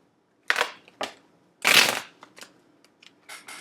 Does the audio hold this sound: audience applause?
no